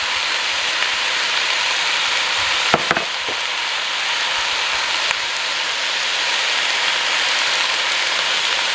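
Garlic fries in a pan over medium heat, giving a steady close sizzle with a few clinks and stirring knocks and no speech.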